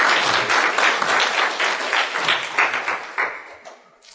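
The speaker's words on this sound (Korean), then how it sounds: "박수 한번 보내주실까요?" Congregation at an early-morning church service claps together, a dense burst of applause that holds steady and then thins out and fades toward the end.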